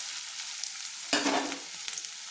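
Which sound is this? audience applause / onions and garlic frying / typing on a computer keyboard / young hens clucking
onions and garlic frying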